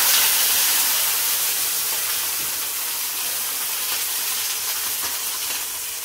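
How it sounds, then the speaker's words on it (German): Cream sauce simmering in a pan for a mozzarella chicken dish gives off a soft, continuous sizzle and bubbling hiss at moderate volume, fading slightly toward the end, with no voices. "Einmal einrühren, ein bisschen aufköcheln lassen das Ganze."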